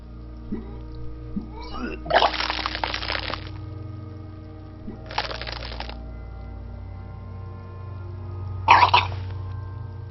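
In the Disco Elysium video game a character retches and vomits in three separate wet, splashing bursts, the first longest, with gagging throat sounds between them over a low background hum.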